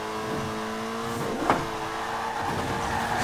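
A car engine in the racing game Forza Horizon 4 drones steadily at a close, even level, with a brief swell of revving near the middle and possible faint tire noise.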